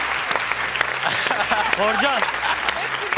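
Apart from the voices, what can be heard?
studio audience applause on a game show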